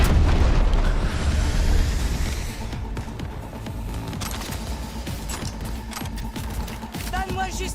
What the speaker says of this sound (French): À couvert! Grenade!